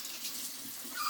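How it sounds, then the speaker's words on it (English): Tap water runs steadily over a spoon being rinsed at a kitchen sink while cooking stuffed peppers, a continuous close hiss and splash with no voices. "And now, after rinsing my spoon"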